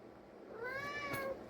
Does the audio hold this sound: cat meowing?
yes